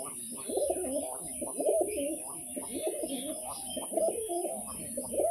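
Pigeons coo repeatedly in a steady stream of low, throaty rolls, close and fairly loud, with occasional chirps and a constant high background hiss.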